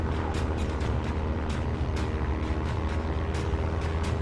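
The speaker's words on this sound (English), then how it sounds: "A lot of planes coming in." Second World War aircraft over Darwin: a dense, continuous drone of propeller engines with rumbling low end and repeated bursts of explosions or impacts scattered through it.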